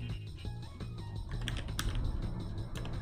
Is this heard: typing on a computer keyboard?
yes